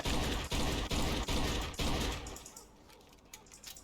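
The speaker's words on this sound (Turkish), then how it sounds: "Silah sesleri biraz kötü gibi ya" Loud bursts of rapid gunfire in the video game Mafia 2 repeat in quick volleys, then cut off and give way to quieter scattered clicks and thuds.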